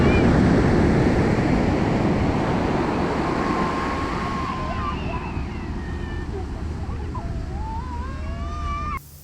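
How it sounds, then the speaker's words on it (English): Ocean surf washing steadily onto Manoda Beach in Karachi, a broad continuous roar with wind buffeting the microphone, some faint chirping calls appearing midway, no speech. "I'm on the beach. It is Manoda Beach,"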